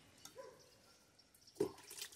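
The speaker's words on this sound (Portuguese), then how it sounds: "Eu vou molhando, assim, tudo assim ao redor, porque assim eu sei que toda a planta, todas as raízes vão estar recebendo a água." Water poured from a container onto potting substrate while repotting an Anthurium crystallinum, a faint soft trickle that swells into a brief splashy gush near the end, alone and quiet.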